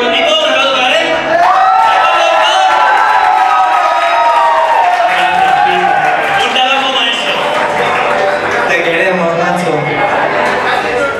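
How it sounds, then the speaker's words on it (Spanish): Live concert crowd at a rock show cheering and applauding loudly and continuously, a dense wash of claps and shouts with voices calling out over it. "EDP con Nico, un aplauso para él."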